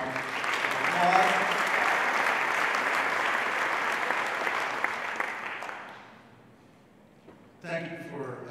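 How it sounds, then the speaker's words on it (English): A big round of clapping fills a forum hall for Democratic candidates in New Hampshire's 1st Congressional District, steady and dense for about six seconds, then fading out before a voice begins talking near the end. "let's give them all a big round of applause"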